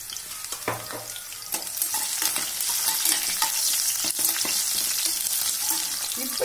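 Cashew nuts fry in a pan for millet kichadi, giving a continuous hissing sizzle that grows slightly louder, with a few light clinks and stirs near the start.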